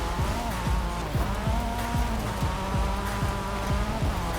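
A 2023 Porsche 911 GT3 R in Forza Horizon 5 accelerates hard on a slippery rear end, its engine note rising and falling in repeated rapid gear-shift sweeps, loud and steady throughout.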